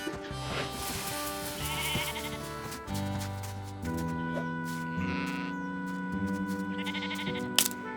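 Sheep bleat repeatedly at lunchtime, several clear calls close by over a bed of steady music, with no talking.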